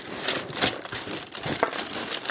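A plastic bag holding radio parts and circuit boards is handled close by, giving continuous crinkling and rustling with a few louder crackles, with no talk.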